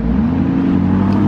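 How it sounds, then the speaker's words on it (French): A yellow Lamborghini Urus drives past at a car show, its engine a loud, close, steady throaty drone with a slowly rising pitch. "Je me fais vidéo bombe par un Urus jaune."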